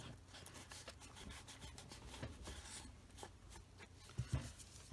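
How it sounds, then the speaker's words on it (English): Soft, continuous scrubbing as an ink pad is rubbed along the paper edges of ring-bound journal pages, faint and close with a steady rasping texture and a few slightly louder strokes near the end. "So let me just go ahead and ink all these edges, and that takes care of any miscalculations."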